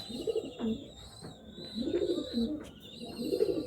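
Laldom and Giribaz pigeons coo softly in repeated low, rolling phrases, close by, with a faint high tone running underneath.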